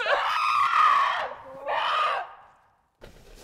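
A woman screams in a short film, two long anguished screams that are loud and close, followed by a brief start of further sound.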